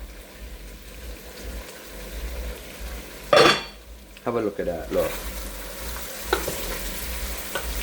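Chicken pieces and a few potato chunks for brown stew chicken frying in a pot, giving a steady close sizzle with stirring scrapes and clinks partway through, under a person talking.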